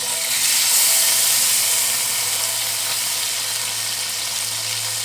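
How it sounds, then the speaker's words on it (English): Soft tofu fries in a hot pan with a steady, close sizzle and hiss of oil that holds evenly throughout, with no voices. "While the tofu's frying"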